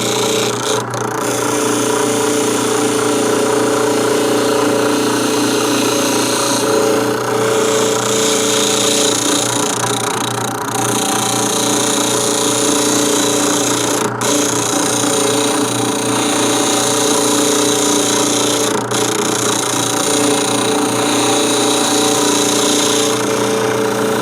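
A steady, loud whir of a drill press running a sanding drum, with a constant hum and gritty abrasive texture, running continuously with occasional brief clicks.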